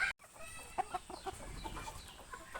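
Local chickens clucking close by, a string of short irregular clucks and calls from several birds over steady farmyard background noise, with no talking.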